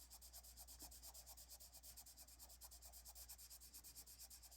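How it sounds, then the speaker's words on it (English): Faint, steady back-and-forth scratching of a colored pencil rubbing on paper, repeating in quick, even strokes close to the microphone. "you can totally hear my pencil noise, can't you?"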